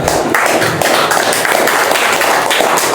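Loud clapping from an audience fills the air for an Indian Air Force recruit at an Independence Day gathering, a dense steady patter of many hands.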